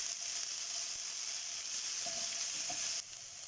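Ginger garlic paste sautés in a pan with a steady, dense hiss. A couple of soft stirring scrapes come partway through, and the sizzle drops slightly near the end.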